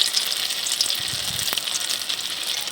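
Bread rolls stuffed with boiled potato frying in a hot wok, a steady bright hiss of oil around them with a faint soft bump partway, close and fairly loud, no voices.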